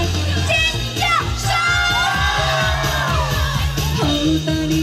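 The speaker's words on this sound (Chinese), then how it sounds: "一起来尖叫声！" A concert crowd at an outdoor seafood festival screams and cheers loudly over amplified live music with a thumping beat, the shouts and whoops dense and continuous throughout.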